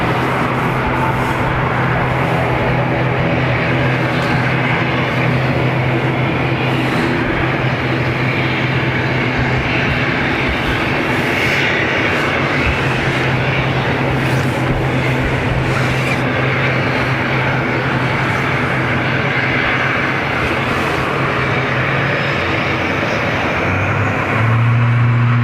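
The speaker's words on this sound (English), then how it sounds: "ATR's off to Bristol." An ATR turboprop airliner takes off from Dublin Airport bound for Bristol, a steady loud drone of propeller engines with a constant low hum that holds throughout and swells slightly near the end.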